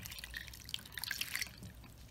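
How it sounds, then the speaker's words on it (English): A cup of water is poured into a saucepan of beets, giving a soft, close trickling and splashing that swells briefly in the middle and fades, alone without talk. "you're going to pour in 1 cup of water"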